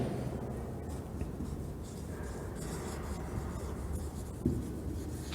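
Writing on a board during a lecture gives a continuous scratchy rubbing and scraping, close by and steady, with one brief tap partway through.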